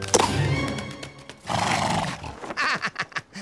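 A cartoon brumby horse whinnies loudly up close, then gives several shorter snorting neighs, with a brief rumbling breath between calls.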